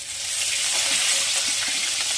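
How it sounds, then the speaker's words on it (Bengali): Rohu fish fries in a pan with a close, steady, hissing sizzle and faint crackles, loud and continuous throughout. "মাছ ভাজা বসিয়ে দিলাম"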